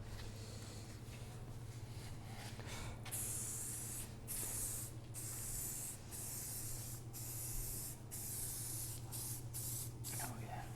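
A spray can lays guide coat on a 1965 Ford Mustang body in repeated hissing bursts. The sharp, loud blasts are separated by short pauses, over a low steady hum.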